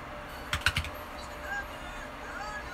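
Computer keyboard typing for a Roblox NPC script, a short quick burst of a few close key clicks followed by quiet room tone.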